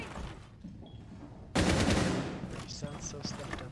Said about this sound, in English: Yo, shoot this camera, Jay